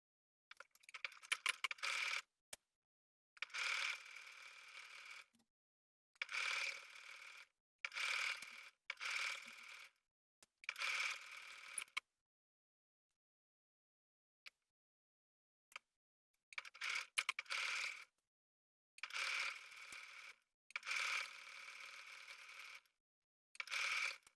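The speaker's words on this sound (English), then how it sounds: "So I've just finished sewing my front and back pieces together at the shoulders." A sewing machine stitches the shoulder seams of a garment's front and back pieces, running in bursts of rapid mechanical clatter separated by short silent pauses, close and clear with no talking.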